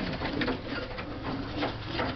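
A young female pigeon being held in the hand gives soft cooing calls, close by and continuous, mixed with faint rustling as it struggles.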